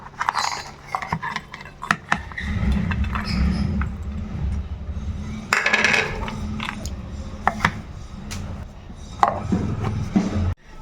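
A mixer grinder jar grinds dry fruits toasted in ghee for a sugar-free coconut laddu, giving a coarse, rattling, clattering whir in bursts with short pauses and sharp knocks, close and fairly loud.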